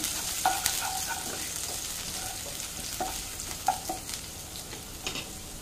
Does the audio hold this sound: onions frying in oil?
yes